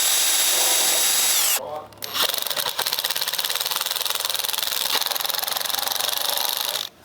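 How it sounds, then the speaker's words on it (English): Power driver running screws into the wooden base of a pedal car chassis: a steady high-pitched motor whine, briefly stopping and restarting, then droning on loud and close before cutting off. "use a power driver to drive the 2 center screws in"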